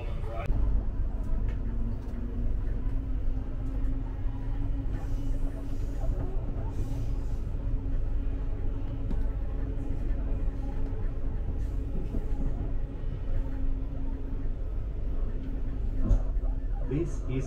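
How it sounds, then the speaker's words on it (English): A steady low rumble of a Springfield Central all-stations passenger train in motion, with rhythmic rattling and a faint hum, while voices talk over it. "This is a Springfield Central train, stopping all stations."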